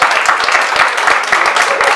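A small party crowd at a birthday celebration claps loudly for a youth mariachi band, close, sharp individual claps in a quick uneven rhythm.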